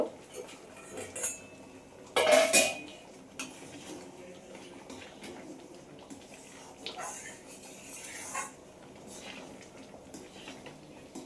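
A pot of masoor dal comes off the stove with a loud metallic clank and a few lighter clinks and scrapes of cookware scattered across a quiet kitchen.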